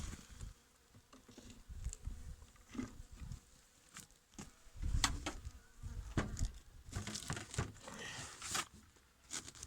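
Honey bees buzz in a dense, droning hum with scattered louder passes and soft thumps, crowding around a hive nearby during a January hive inspection.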